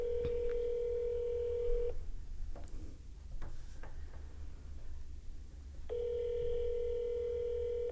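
A phone ring tone sounds through a speaker in two long steady bursts, separated by a quiet pause with faint clicks and room noise.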